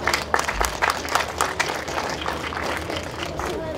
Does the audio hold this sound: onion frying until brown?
no